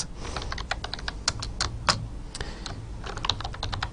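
Fingers type C++ code on a computer keyboard, producing quiet, close, irregular clicking keystrokes in quick bursts with brief pauses and no talking.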